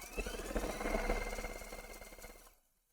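A sewing machine stitching fast while a quilt block is pieced, a quick even rhythmic whirring with mechanical rattle, close and moderately loud, slowing and stopping just before the end.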